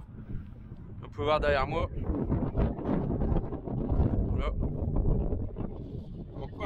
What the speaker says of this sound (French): il y a un vent de fou aussi